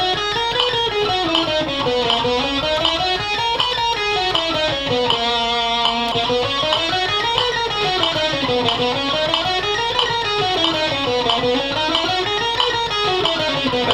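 An electric guitar plays a fast, even run of alternate-picked sixteenth notes in a repeating rising and falling pattern, continuous and loud for the whole stretch.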